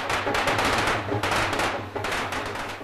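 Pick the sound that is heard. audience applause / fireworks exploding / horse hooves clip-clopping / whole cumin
fireworks exploding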